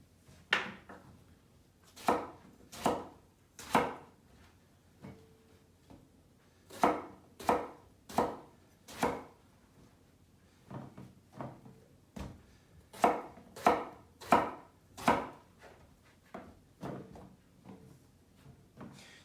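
A knife slices through firm eggplant onto a board in quick bursts of three or four sharp taps, separated by short pauses.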